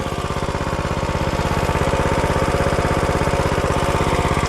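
A Coleman B200R mini bike engine runs close by with a rapid, even putter, its throttle rising slightly and holding a loud, steady chug.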